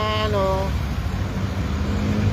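Road traffic on a congested highway near Antipolo produces a steady low rumble of engines. A brief horn-like tone sounds at the start, and a voice is heard talking over the traffic.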